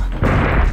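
Shotgun blast in Dino Crisis 2: one loud, dense boom that hits sharply and sustains briefly, heard alone.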